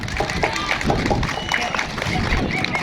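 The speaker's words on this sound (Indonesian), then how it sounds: "ya kita tepuk tangan bersama-sama" Crowd at a school anniversary celebration clapping together, a dense steady patter of many hands with voices and murmuring mixed in.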